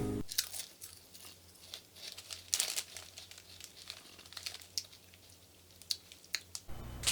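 Chewing and crunching on Lay's cheddar and sour onion potato chips, close and steady bites with crinkly crackles and bursts throughout, no talking.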